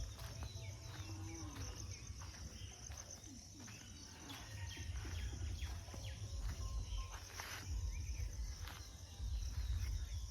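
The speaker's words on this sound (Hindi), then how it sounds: "और देखिए चिड़ियों का आवाज़ सुनिए।" Birds chirp in scattered short calls over a steady chorus of insects during a quiet village morning, faint and distant, with occasional light movement nearby.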